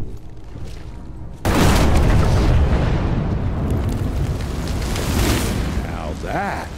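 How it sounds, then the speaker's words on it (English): A deep booming explosion erupts suddenly in the video game Evil West, a loud blast followed by a long rumbling roar and debris, with a voice speaking near the end. "Now that is how you shape an explosion"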